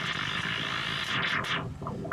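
A dense, buzzy synthesized guitar tone from a Line 6 FM4 Octosynth effect sustains with a thick, filtered texture, then bright swelling accents fade out near the end.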